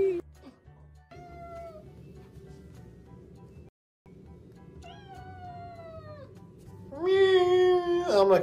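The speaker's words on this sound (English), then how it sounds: "I'm a cat. All I do is meow all day." A cat meows several times in drawn-out, rising cries. The last call is louder and more strained, and low background noise runs underneath throughout.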